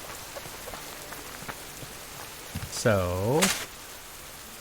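Rain falls in the video game Subsistence as a soft, steady hiss, and a voice briefly speaks near the end while a short rising-and-falling tone sounds.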